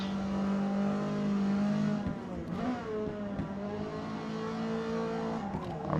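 Ford Escort D-class race car in Forza Motorsport at Mid-Ohio, its engine droning loudly and steadily with pitch rising and dropping through gear changes, alone without voices.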